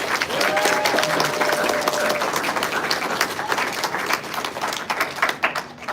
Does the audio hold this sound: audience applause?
yes